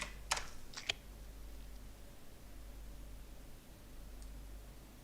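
Typing on a computer keyboard, a few quick clicks at the start and then near silence under a faint hiss, quiet and close.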